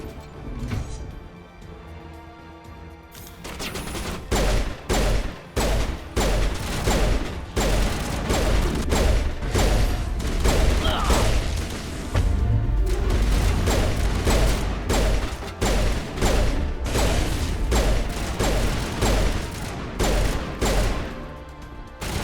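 Rapid volleys of turret gunfire in the video game Mass Effect, dense repeated blasts and crashes that stay loud and close through most of the stretch after a quieter opening.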